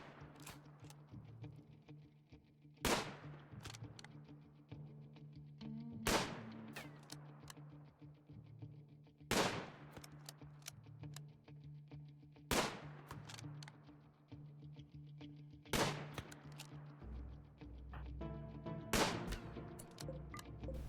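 Six single gunshots from RimWorld ring out at a steady interval of about three seconds, each a crisp crack that fades quickly over a low, quiet hum.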